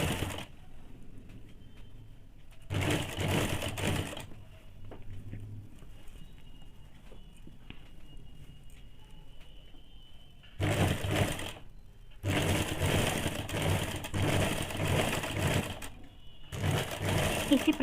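Sewing machine stitching a collar onto a high-neck blouse, several bursts of rapid mechanical whirring separated by quieter pauses, close and moderately loud.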